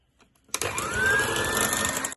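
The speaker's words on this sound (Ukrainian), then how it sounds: "я збиваю цей крем до гострих піків" An electric mixer whips custard-enriched butter cream for a Kyiv cake. It starts abruptly after a short silence, then holds a loud, steady whirring whine with a rising tonal pitch.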